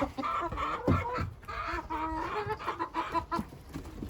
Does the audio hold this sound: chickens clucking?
yes